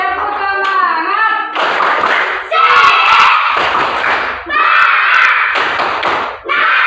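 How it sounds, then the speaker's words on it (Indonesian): A classroom group performs a rhythmic spirit clap, bursts of patterned clapping and tapping alternating with voices chanting or singing along in quick, energetic cycles. "Tepuk semangat."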